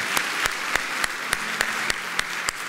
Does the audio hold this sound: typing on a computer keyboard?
no